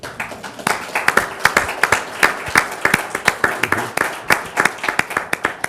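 Audience clapping at the close of a panel talk on business and the arts, a moderate crowd of hands producing dense, overlapping claps at steady strength for several seconds with no voices on top.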